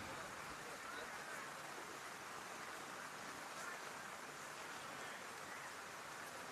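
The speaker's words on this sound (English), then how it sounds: "it's a typical wet season night, this one, and the rain coming down" Steady rain falls on a football ground on a wet-season night during a Nightcliff versus Wanderers NTFL Men's Premier League match, a dense even hiss that holds throughout with no breaks.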